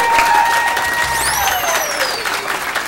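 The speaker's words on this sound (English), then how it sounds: "please just give us a warm welcome and a warm round of applause" An audience at Johnson Hall breaks into loud, sustained applause to welcome the band. Whistling can be heard over the dense clapping.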